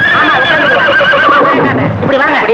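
A horse whinnies loudly and close by in a long, wavering neigh, with faint hoof clip-clops and bits of voice underneath.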